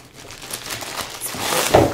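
A plastic bag crinkles and rustles as a diamond art canvas is pulled out of it. The crackling is close, grows busier and louder toward the end, and no one talks.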